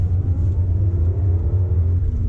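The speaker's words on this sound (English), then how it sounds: "here we go in a 2JZ Supra" A 1993 Toyota Supra with the 2JZ twin-turbo engine drives along, its deep, steady engine rumble loud and close from inside the cabin, with no speech.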